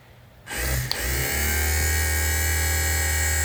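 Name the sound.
1967 Cadillac Eldorado power window motor running under power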